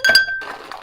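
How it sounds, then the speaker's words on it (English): Ice cubes dropped into a cocktail glass while making a Bloody Mary: a quick burst of bright glassy clinks, then a short rattle as the cubes settle. No talking. "adding the ice to the glass."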